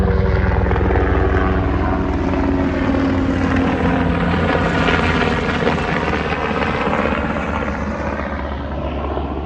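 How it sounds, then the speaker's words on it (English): A helicopter passes overhead with a loud, steady roar and beating rotor throb that fills the whole stretch, slowly fading slightly toward the end with no voices over it. "Helicopter."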